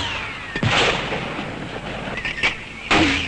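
Heavy American mortars fired by Kurdish Peshmerga fighters in Iraqi Kurdistan, heard as several sharp booming blasts a second or two apart, loud and close, with outdoor wind noise between them.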